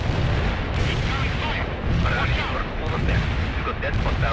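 A dense artillery barrage in the real-time strategy game World in Conflict: Soviet Assault, a continuous roar of overlapping booms and rumbling detonations at steady loudness throughout.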